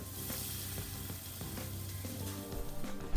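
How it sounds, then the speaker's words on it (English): French toast bread sizzling on a greased skillet: a steady, close frying hiss with faint crackles and a few soft scrapes, continuing without talk. "you take the bread, soak it in, and you're ready to put it on the greased skillet"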